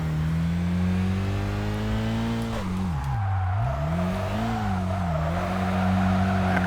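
A car engine in Kaido Racer 2 held at steady revs through hairpin corners, dipping briefly as the driver lifts, then climbing back; a constant, close drone with no talk.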